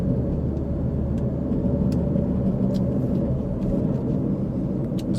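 A car drives through residential streets in Athens, Tennessee, with a steady, close engine and road-noise rumble heard from inside, unbroken throughout and free of talk.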